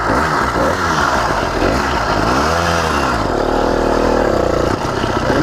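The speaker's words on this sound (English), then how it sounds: "I gotta turn the throttle up some." A 110cc (85cc) 52mm iron-sleeve motorized bicycle engine revs up and down with the throttle, a loud, close, buzzy two-stroke whine rising and falling in pitch over steady engine clatter.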